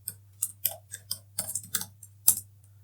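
Typing on a computer keyboard: a quick irregular run of light, crisp key clicks, close and alone over a faint steady hum.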